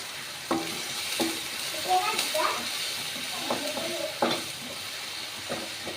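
Chopped onion and green chillies fry in a pan with a soft sizzle, punctuated by several sharp spoon knocks and scraping stirs against the metal, close by, with faint voice-like sounds but no clear speech.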